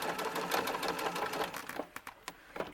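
A sewing machine stitches down the leg of small doll footie pajamas with grippy lined fabric, a fast close whirring chatter that slows into a few separate clicks near the end.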